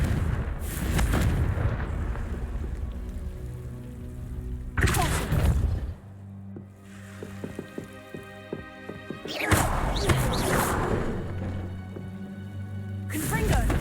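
Blasting curse explosions from the video game Hogwarts Legacy: several loud, booming bursts spaced a few seconds apart, each with a sharp crackling onset and rumbling tail, against a low sustained game music drone.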